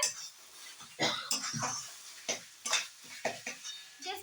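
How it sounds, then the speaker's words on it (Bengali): A metal spatula scrapes and clinks against a pan while stirring and breaking up chhana (fresh cheese) for kachori filling, a series of sharp irregular scrapes and knocks, close and fairly quiet, no talk. "এটাকে এরকম ভাবে খুন্তির সাহায্যে একটু ভেঙে ভেঙে দেবে"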